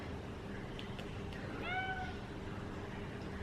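A spoiled pet cat meows to beg for food, a single drawn-out, rising meow that is fairly faint against a steady low background hum.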